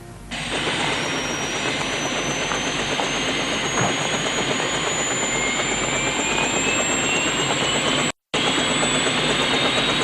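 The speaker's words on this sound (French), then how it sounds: "Nous partons tous les deux en hélico." A steady, loud mechanical roar with a rising high whine runs almost continuously, like a helicopter engine, broken by a brief dropout near the end.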